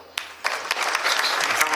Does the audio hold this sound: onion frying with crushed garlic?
no